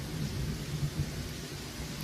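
Steady hiss of rain with low, rumbling thunder swelling and fading beneath it, ambient weather in the Pathfinder: Kingmaker role-playing video game, with no voices.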